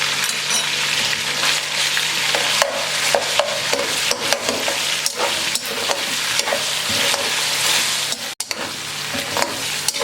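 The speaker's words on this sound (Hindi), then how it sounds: "अब इसमें 1 टेबलस्पून भर के जिंजर गार्लिक पेस्ट डाल देंगे और इसको 10 से 20 सेकंड के लिए फ्राई कर लेंगे।" Ginger garlic paste frying with chicken in a hot pan for a biryani, a steady close sizzle with frequent stirring scrapes and clinks throughout, no voices.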